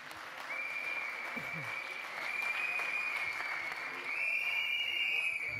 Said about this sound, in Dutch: Groot applaus voor Anja